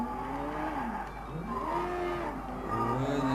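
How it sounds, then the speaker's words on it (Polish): A motorcycle ridden in the Sleeping Dogs video game, engine revving with pitch sweeping up and down alongside tire skidding, close and moderately loud throughout, with no talk. "Bierzemy sobie motor."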